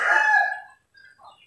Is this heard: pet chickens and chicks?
yes